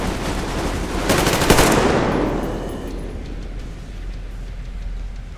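Sustained automatic gunfire from a firefight in the video game Metro Exodus, a loud dense burst of rapid shots that peaks early and then tails off into quieter scattered rattling and reverberation.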